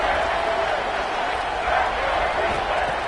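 A football stadium crowd roars on third down, a dense, steady wash of cheering with no breaks.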